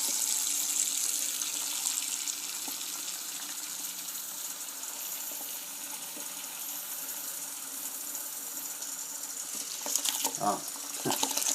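Water runs from a household tap that is slow to deliver hot water, in a home with blocked drains. A steady, moderate hiss and gush continues throughout, with a few louder splashes near the end.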